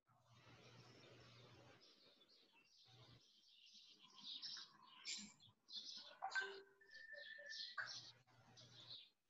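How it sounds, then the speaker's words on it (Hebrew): Many birds chirping and twittering indoors in the background, a busy run of faint high calls and tweets with a low hum underneath. "למי יש כל כך הרבה ציפורים בבית שאני שומע את זה ברקע?"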